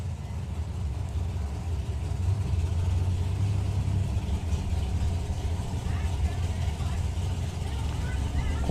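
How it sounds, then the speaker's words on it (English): A pair of dragsters race at a drag strip, their engines a sustained loud roar heard from a distance, steady throughout with rumbling low-end, while an announcer talks over it. "Pair of dragsters for you."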